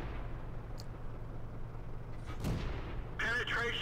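A Type 98 Ke-Ni light tank gun firing and the shell hitting in World of Tanks, a single sharp boom midway followed by a brief game chime, over steady engine rumble, with a voice talking faintly underneath.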